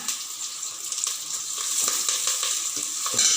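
Onion, curry leaves, rock salt and broken chillies fry in hot oil for a kurma, a continuous close sizzle with bursts of crackle as the pan is stirred.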